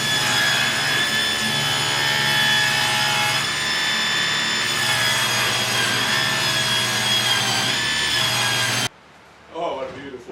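A table saw rips the wane off a wooden trim board for a cabin gable, giving a loud, sustained close whine that stops abruptly, followed by a brief voice.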